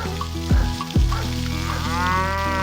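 Cattle on a farm with goats, poultry, ducks and fish; a cow gives two short, loud, close moos followed by a longer drawn-out low, alone without any talking.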